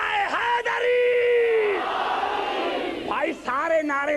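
A crowd at a religious majlis gathering shouts the Nara-e-Haidari slogan in unison, loud and reverberant, with a leading voice calling out and the mass response swelling over it.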